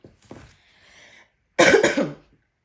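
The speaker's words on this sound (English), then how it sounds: "I still have a little bit of a cough." A lingering cough bursts out loud and close as two quick coughs, after faint rustling and soft low sounds.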